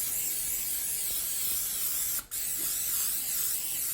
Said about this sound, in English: we're also going to spray the rack because that will make the rack easier to clean